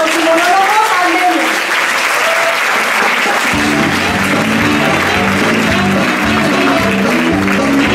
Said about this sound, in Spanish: Un fuerte aplauso para Reyes Mudría y Sergio Martín